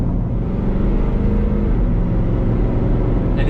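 USSV Rhino GX heavy armored car, nearly 10,000 pounds, driving downhill through a bumpy turn, a steady loud low engine and road rumble heard from inside the cabin without break.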